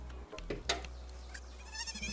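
A sheep-like creature in the game Palworld gives short bleats, a couple of brief calls over a low steady hum with faint game effects behind.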